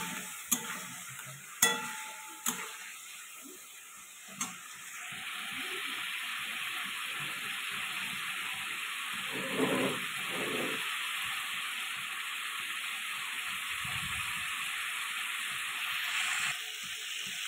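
Chili and cumin paste with salt and turmeric sautéing in a pan for a Bengali fish curry, opening with a few sharp clinks of stirring, then a steady soft sizzle with occasional scraping swells.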